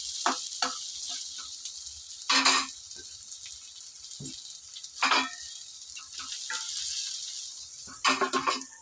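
Carrots sizzle steadily in a pan for coriander rice, a continuous frying hiss broken by a few louder scraping stirs near the start, middle and end.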